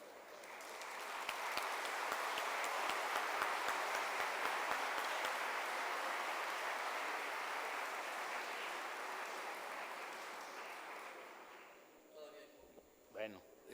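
Sustained audience applause at a book presentation in a hall, a dense roar of clapping lasting about eleven seconds before fading, followed by a few brief voices and scattered sounds.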